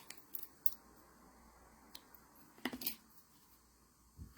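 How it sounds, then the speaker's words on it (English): Scissors snipping ribbon into two strands for a double bow, giving a few soft, close clicks and crisp cuts spaced unevenly over a quiet room. "I'm gonna cut it again, so I have 2 strands."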